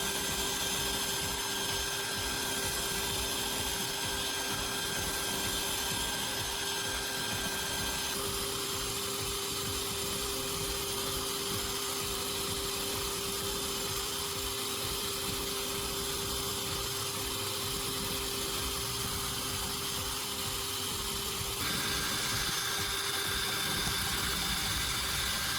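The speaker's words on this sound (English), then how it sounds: "I'll carefully press the knife blade against the rotating sandpaper." A knife blade is pressed against a rotating sandpaper disc mounted on a drill, giving a steady, continuous whirring grind with a constant motor tone that shifts slightly partway through, close and even throughout.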